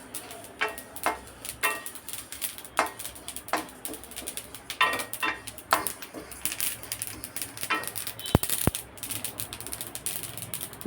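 White sesame seeds and asafoetida roasting in a pan, giving off sharp scattered pops and crackles that come in bursts over a low sizzling background, close and fairly quiet.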